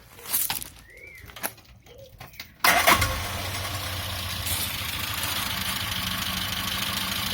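A 1984 Morris Ital 575 van engine is cranked, with a few uneven starter whirs and pauses. Then it catches abruptly and settles into a steady, loud idle that runs to the end.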